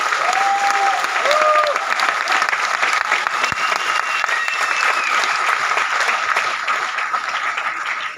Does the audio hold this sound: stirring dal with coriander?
no